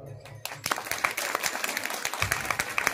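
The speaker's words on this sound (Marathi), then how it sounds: "बसलेली टाळी वाजव टाळी" An audience claps in rhythm during a devotional kirtan, a brisk run of sharp, evenly spaced hand claps that starts abruptly after a brief quiet moment and carries on with voices faintly present underneath.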